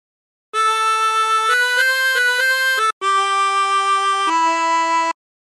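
Chromatic harmonica playing a phrase of Battle Hymn of the Republic, sustained reedy notes stepping up and down with one short breath gap, close and clear with no talking.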